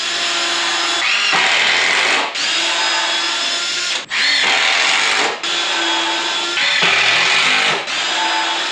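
A power drill drives screws into pre-drilled wooden boards in several sustained whirring bursts, loud and close, each run ending with a brief pause and a shift in pitch as the screw seats.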